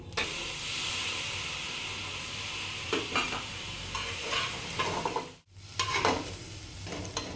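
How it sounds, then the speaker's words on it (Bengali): Vegetables cooking without oil in a pan as water goes in, a steady hissing sizzle with stirring scrapes and a brief sharp break before the bubbling resumes, close and unaccompanied by talk. "এবার আমি আবার একটু জল দিয়ে দেবো।"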